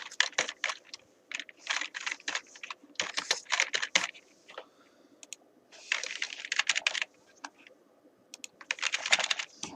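Rapid keystrokes on a computer keyboard while entering data into an Excel table, coming in bursts separated by short pauses, close and clear with no talk.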